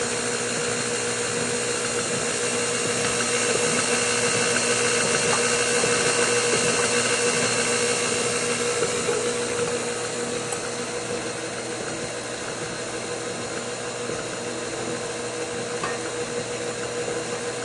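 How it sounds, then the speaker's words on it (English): An electric mixer blends a cheesecake ice cream base of cream cheese and cream, giving a steady, fairly loud motor whir that runs unbroken and unchanged throughout with no talking. "I want to get this really well blended so it doesn't end up lumpy."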